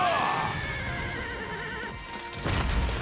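A horse in Fire Emblem Warriors lets out a loud wavering whinny over steady game background sound, ending with a heavier rumbling thud.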